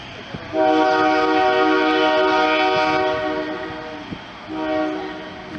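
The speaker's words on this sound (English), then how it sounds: "that train just went rolling by right down on here in this set of tracks right here" A passing train sounds a long, loud horn blast, then a second shorter one, over a low rolling rumble beside Union Pacific tracks in Topeka, Kansas.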